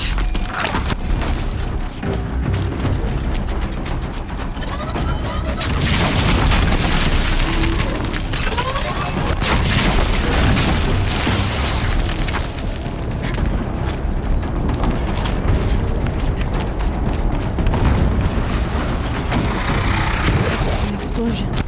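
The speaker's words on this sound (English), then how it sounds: "An explosion." A loud, sustained explosion in the video game Horizon Zero Dawn roars on for the whole stretch as a dense, rumbling blast with crackling debris and mechanical clatter, without a pause.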